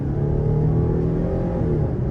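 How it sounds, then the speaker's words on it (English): Steady low engine drone and road rumble from a 2018 Jeep Grand Cherokee Limited with the 3.6 V6, heard from inside the cabin while driving at an even pace. "this V6 has very good power"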